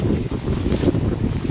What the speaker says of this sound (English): Get out of the wind here. This wind's bullshit.